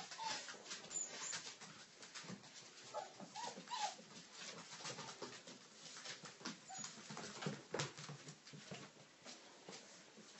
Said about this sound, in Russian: Что за зверская собака такая?